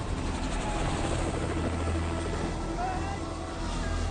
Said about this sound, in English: a disorientated and delirious John Campbell sees the chopper on the horizon.